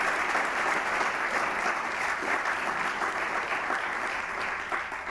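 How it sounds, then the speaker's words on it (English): An indoor audience at a spring sports awards ceremony claps steadily, a dense, sustained round of applause that holds for several seconds before tapering slightly. "He's already been clapped for."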